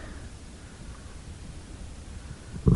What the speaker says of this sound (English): You can hear the creek behind me.